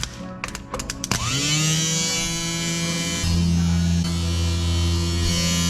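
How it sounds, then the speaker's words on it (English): An electric windshield washer fluid pump on a 1955 Chevy starts with a few clicks, then settles into a steady, loud, buzzing whine that drops to a deeper drone partway through and holds alone. "See if the electric pump works here."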